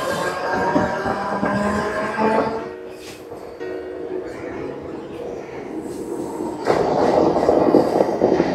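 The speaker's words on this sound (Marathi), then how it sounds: "फायनली ट्रेन मिळाली वेळेवर." A commuter train arriving and running through a station: a steady rumbling roar with rattling wheels and faint squeal, dipping briefly before swelling louder and closer, with people talking underneath.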